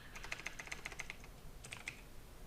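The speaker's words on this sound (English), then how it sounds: "if you hit tab key and just start typing" Tab key and typing on a computer keyboard while entering a volume name in Maya: a quick burst of about ten crisp, close keystrokes in steady rhythm, then a brief pause and a couple more taps, alone without talk.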